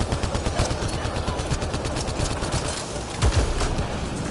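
Rapid gunfire in the sci-fi shooter Mass Effect Andromeda, a steady stream of shots rattling through a dense, busy battle mix, with a louder burst toward the end.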